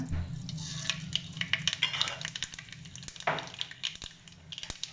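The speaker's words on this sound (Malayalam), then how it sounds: "അതിനകത്തോട്ട് കുറച്ച് കടുക് ഇട്ട് കൊടുക്കുകയാണ്." Mustard seeds sizzling in hot coconut oil in a pan, a soft, steady frying hiss broken by scattered sharp pops and crackles of the seeds, close and moderately quiet.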